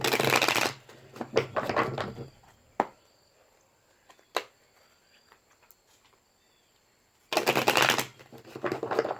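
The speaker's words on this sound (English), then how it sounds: "All right, one more shuffle." Tarot cards are riffle-shuffled up close in two brisk bursts, with scattered taps and card flicks in the quiet between them.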